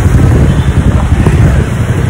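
Strong wind buffets the microphone in a loud, continuous roar, with gusty low rumbling throughout.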